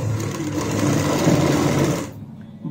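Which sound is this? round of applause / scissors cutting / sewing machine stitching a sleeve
sewing machine stitching a sleeve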